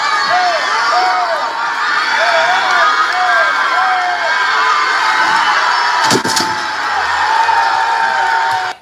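A crowd cheers and shouts continuously and loudly at a public event, a dense roar of voices with whoops, broken briefly by a sharp thud near the end.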